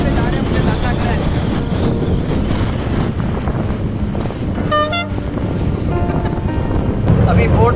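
Loud wind buffets the microphone while a boat moves across the sea near a beach in Jubail, Saudi Arabia, with water slapping and hull noise under occasional voices.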